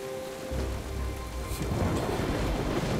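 A thunderstorm from the Jurassic Park video game: steady heavy rain hisses throughout, with deep thunder rumbling low underneath and swelling louder in the second half, no voices.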